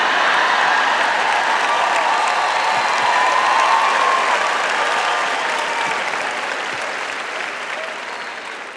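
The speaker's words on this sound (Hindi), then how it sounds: "और जो गड़गड़ाहट आप सुन रहे वो परमेश्वर की तालियां हैं।" A large crowd applauds continuously, a dense wash of clapping that holds steady and then slowly fades toward the end.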